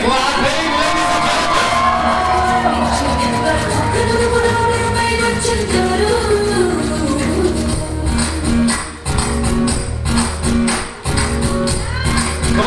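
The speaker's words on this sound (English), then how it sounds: "Let me hear more cheering, clapping, ladies and" A crowd at a sangeet celebration cheers, whoops and shouts loudly and continuously, a dense wall of festive noise that swells and dips briefly near the end.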